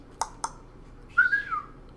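Two short clicks, then a brief rising and falling whistled tune lasting about half a second, fairly close and alone.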